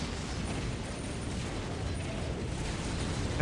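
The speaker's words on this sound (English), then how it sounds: "Huge explosion again. Another nuke by the looks of things." A huge nuke detonates in the strategy game Dawn of War Ultimate Apocalypse, a dense, steady roaring rumble with crackling debris that fills the whole moment and swells slightly at the end.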